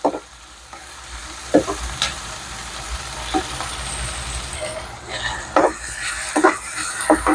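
Onions sautéing in a pan for chicken liver pepper fry, a loud close sizzle broken by repeated scraping stirs of the spatula, irregular strokes over a continuous frying hiss, no talking.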